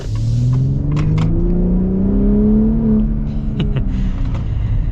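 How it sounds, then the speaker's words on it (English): A custom 2025 Ford Raptor with a trombone exhaust revs with a deep, rumbling metallic note that rises and falls steadily, close and loud, with a few faint clicks over it. "Pretty cool sound with the trombone exhaust."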